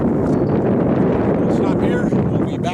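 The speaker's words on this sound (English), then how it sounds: "the wind right now is 5 to 6 miles an hour" Steady wind rushes and buffets across the microphone outdoors at an airfield during an SC17 Sport Cub model plane maiden flight, a continuous broadband roar with gusty fluctuations and no clear talk.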